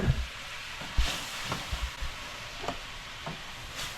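White wine cooking with mushrooms in a pan for chicken scallopini: a soft, even sizzle with occasional light knocks and stirring scrapes of a utensil against the pan.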